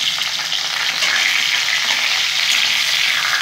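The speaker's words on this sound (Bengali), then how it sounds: "ইলিশ মাছের মাথাটা ভেজে নেব" A hilsa fish head fries in hot oil, giving off a loud, dense, continuous hiss close by, with no talking over it.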